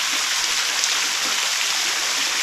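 A waterfall at Phu Pha Man roars in a loud, constant rush of falling water that fills the whole stretch, close and unbroken, with no voices.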